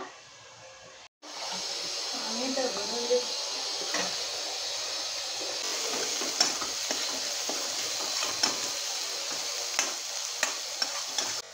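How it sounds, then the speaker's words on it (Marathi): Onion sautés in a pan for a dried small prawn dish, a steady close sizzle that starts abruptly after a brief quiet moment, with occasional scrapes and ticks of a spatula and no clear talking. "झाकण ठेवून कांदा थोडासा परतू द्यायचा."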